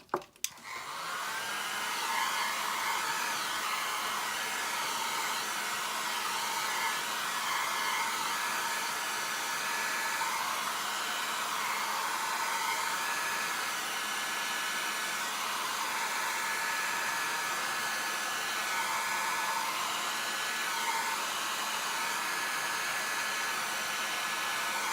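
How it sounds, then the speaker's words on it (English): A blow dryer blasts a steady, close whirring roar over alcohol ink on canvas, holding a constant pitch for the whole time without pausing and with no talking. "I do let my blow dryer stay over this till it's mostly dry"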